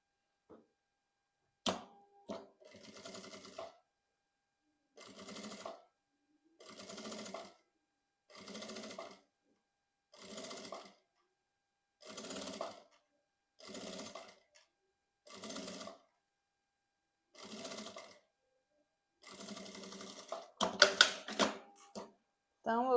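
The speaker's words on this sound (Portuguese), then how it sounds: "eu começo aqui uma costura de beiradinha só para fixar esse zíper aqui nessa peça" A sewing machine stitches a zipper onto fabric in a repeated run of short whirring bursts, about a dozen evenly spaced pulses with brief pauses between, ending in a busier cluster of handling noise.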